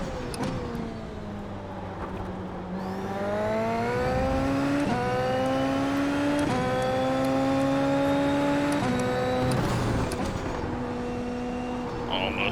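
Super Formula open-wheel race car in iRacing at the Red Bull Ring, the engine whining high and climbing through several upshifts, loud and close, with someone speaking over it.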